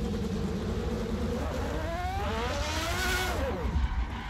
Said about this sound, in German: ich glaube, der Ton ist zu laut, gell, bei dem Auto